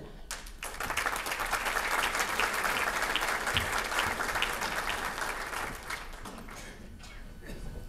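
An evening Multicultural Alliance Table Talk audience claps warmly to welcome Ayesha Shafi, a dense, steady roar of many hands that builds quickly, holds, then thins out toward the end.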